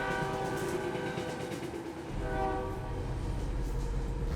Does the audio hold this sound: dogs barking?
no